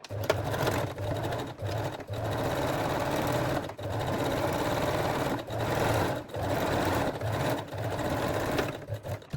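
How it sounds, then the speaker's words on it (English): A sewing machine stitches and back-tacks the seams of a bikini top, running in long loud continuous stretches broken by short pauses. "don't forget to lock the seams at the beginning and at the end"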